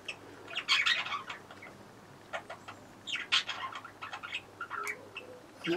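Birds chirp and squawk in scattered bursts, with brief rustling that suggests wing flaps, fairly close but not loud.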